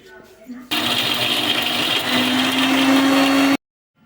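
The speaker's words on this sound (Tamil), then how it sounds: "இப்போ மிக்சியில் போட்டு அரைக்கிறோம்" A kitchen mixer grinder blends peanut chutney with added water, a loud continuous whirring drone with a rising steady tone for about three seconds before cutting off abruptly.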